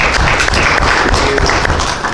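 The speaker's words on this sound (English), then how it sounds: "Quick applause to Chris." An audience at a talk on website and search marketing gives a quick round of applause, a loud, dense burst of clapping from a nearby group lasting a couple of seconds.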